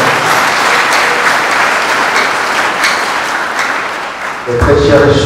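A crowd at a Catholic youth Mass claps for the Lord in loud, sustained applause that carries steadily for several seconds before a voice comes in near the end.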